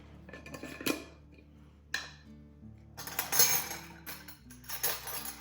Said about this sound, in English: I'm using a tablespoon mainly because I have to scoop it out somehow